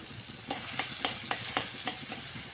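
Chili and garlic paste fries in a hot kadhai, a steady close sizzle broken by regular scraping strokes of a spoon as it is stirred, with no talk.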